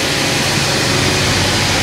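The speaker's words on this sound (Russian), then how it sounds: "мотор работает вообще прям четко" A 2012 UAZ van engine runs steadily at idle, a loud, even low rumble with no breaks from start to finish and no voices over it.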